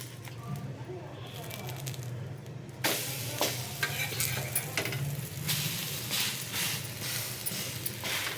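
A bread omelette cooking in a pan over a medium flame, giving a soft, steady sizzle with scraping and pressing sounds that grow louder partway through, with brief faint talk.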